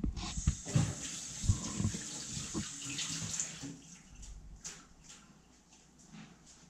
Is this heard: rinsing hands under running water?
yes